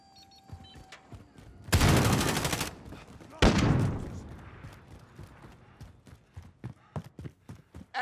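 Automated sentry gun in Call of Duty: Modern Warfare letting off two dense, loud bursts of rapid fire, the first about a second long and the second fading over several seconds, followed by scattered single shots and clatter.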